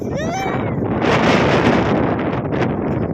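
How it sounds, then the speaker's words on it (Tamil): Strong outdoor wind buffets the microphone in a steady loud roar near the water, with a brief faint voice at the start. "இங்க காத்து ரொம்ப அடிக்குது"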